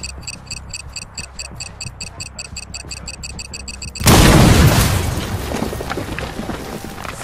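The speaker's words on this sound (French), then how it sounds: "Explosion!" A loud, sudden explosion in the Battleship video game set off Hawaii, a deep booming blast that cuts in after rapid ticking beeps and rumbles away slowly.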